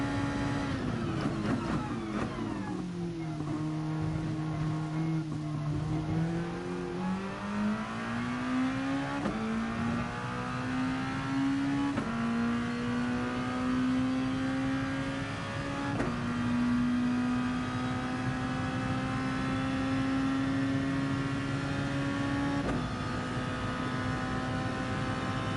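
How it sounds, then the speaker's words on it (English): Race car at Monza charging flat out toward turn 1, then dropping four gears and braking hard: a loud, close engine drone falls in pitch through successive downshifts, then climbs steadily again with sharp gearchange steps, alone without talk. "absolutely flat out up towards turn 1, and we go down 4 gears, and we're going to brake hard for this one"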